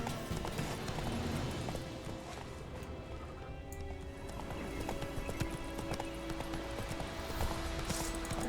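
Horse hooves clip-clop at a steady galloping rhythm in The Witcher 3, with occasional whinnies, under a continuous game soundscape.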